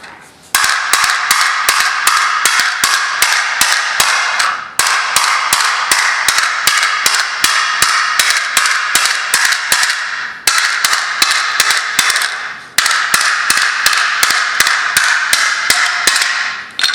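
A hammer's sharper point strikes a cooled object in rapid, steady taps. The loud, close, sharp impacts come in four long bursts with brief pauses between them.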